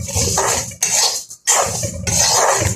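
Dry rice grains being fried in a pan, rattling and scraping loudly in three long bursts with brief pauses between, no voices.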